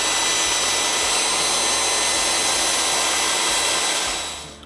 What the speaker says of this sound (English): We made these cuts very slowly, making sure to press it against the fence so we get a nice straight cut.